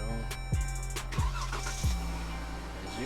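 A Jeep SRT engine is cranked repeatedly, with several short starter bursts over a steady low rumble, loud and close.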